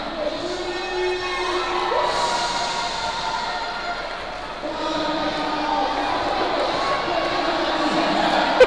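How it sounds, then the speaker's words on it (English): A basketball crowd at the Caribbean championship cheers loudly and steadily through the closing seconds of a game, a dense roar of voices with shouts rising over it and a brief dip partway through. "The crowd loves it."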